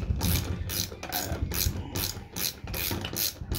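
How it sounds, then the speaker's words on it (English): A ratcheting wrench clicks steadily as it turns a bolt in a tight spot where a socket won't fit, giving a rapid, loud metallic pawl chatter in repeated strokes with short pauses between them. "At least you got ratcheting wrenches."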